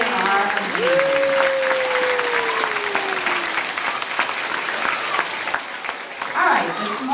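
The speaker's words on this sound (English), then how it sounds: "Let's give a round of applause to our teachers" A school awards crowd applauds its teachers, dense sustained clapping that fills the room loudly, with a voice and a brief tonal whoop or whistle rising over it and cheering toward the end.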